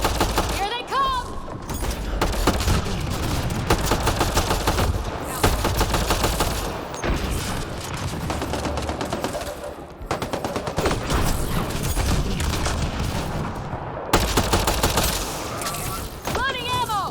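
A firefight in Mass Effect Andromeda crackles with sustained bursts of rapid gunfire and impacts, loud and continuous, with voices calling out between the shots.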